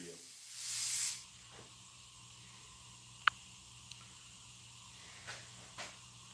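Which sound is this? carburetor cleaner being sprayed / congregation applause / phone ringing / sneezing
carburetor cleaner being sprayed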